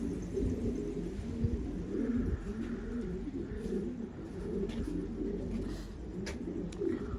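A pigeon coos in a low, repeated, rolling rhythm, close by, over faint background noise.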